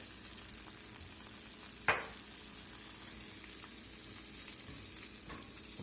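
Lemon caper butter sauce reducing in a pan for pan-seared salmon, a quiet steady sizzle and frying hiss with one brief stir or clink partway through.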